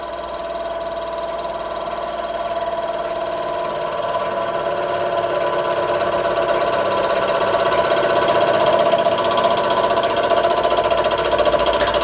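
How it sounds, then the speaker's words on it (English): A Wylie Harris Tubo Products model steam engine from around 1947 runs continuously, giving a steady, close mechanical whirr with a fast, even ticking rhythm and a faint humming tone, heard alone without speech. "The Wylie Harris Tubo Products model steam engine from around about 1947."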